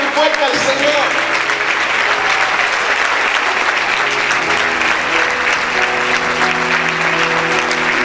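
Church congregation applauds loudly and continuously in a full crowd wash, with sustained musical tones running underneath and voices mixed in.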